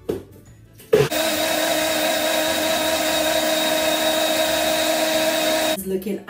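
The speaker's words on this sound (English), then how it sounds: "I've actually blended it once, so I'm going to blend it again to give me that finer texture" A Nutribullet blender whirs loudly and steadily for about five seconds as it blends a smoothie, starting abruptly after a brief quieter moment and cutting off sharply near the end.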